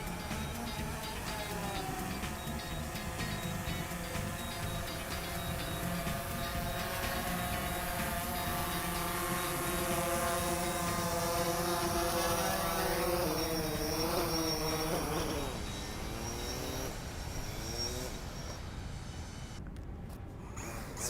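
A DJI drone, Mavic Pro or Phantom 4, hovers and comes in to land outdoors, its steady whining propeller buzz loud and continuous, with the rotor pitch wavering and dropping as it descends near the end.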